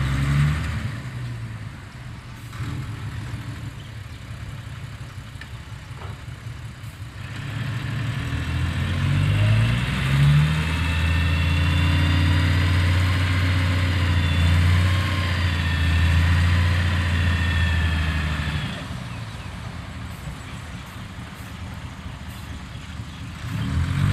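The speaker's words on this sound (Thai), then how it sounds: "ขับรถไถเอง" A tractor digging a pond runs with a steady, rumbling diesel drone that swells louder and heavier through the middle stretch, then eases back to a lower idle near the end, with no talk.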